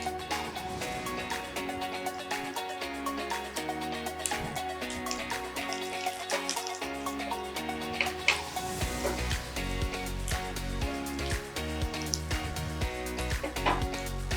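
Curry leaves and small shallots sauté in an oil-filled pan, giving a steady close sizzle and crackle with occasional stirring clinks, joined by a louder burst of frying partway through.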